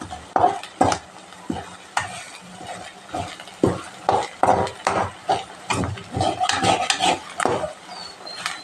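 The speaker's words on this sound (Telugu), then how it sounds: "రెండు నిమిషాలు ఇలా ఫ్రై చేసుకొని కొబ్బరి మాడనివ్వకండి." Grated coconut frying in a pan for chicken curry, stirred with quick repeated spoon scrapes and taps over a soft sizzle, rhythmic and close, growing busier toward the end, no talk.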